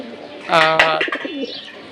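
Pigeons at a pigeon market give a short, close coo of a couple of throaty notes over a quiet background.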